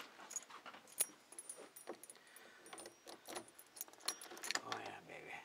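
Keys jangle in a garage in quick, irregular metallic clinks and rattles, close by and fairly quiet, continuing throughout.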